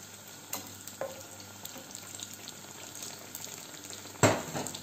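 Tunisian fricassé dough frying in hot oil, a soft steady sizzle with a few sharp crackles and one louder splattering burst near the end.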